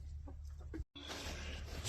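Chickens in a farm pen by a barn give a few soft clucks against steady background noise. A brief dropout breaks the sound, and then the low-level murmur of the flock carries on, moderately distant.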